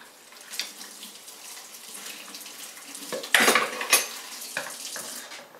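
A kitchen tap runs steadily while hands are washed under it, a close broadband rush with a few louder splashes and light clatter partway through.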